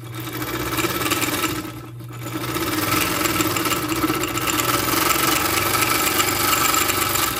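A GN1-6D semi-industrial overlock machine runs steadily while sewing thicker material, a continuous fast mechanical whir with a brief dip in speed near the start before settling into an even, close, loud hum.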